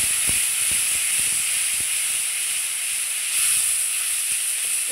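Ground tomato paste and black cumin seeds hit hot oil left from frying pabda fish, producing a continuous loud sizzle and hiss with scattered small pops and crackles.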